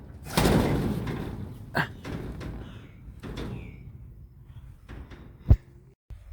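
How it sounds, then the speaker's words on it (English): A stuck door is forced open with a series of heavy thuds and scraping knocks, then one sharp close bang near the end, with quieter gaps between the efforts. "Well, it appears that the door is a little stuck."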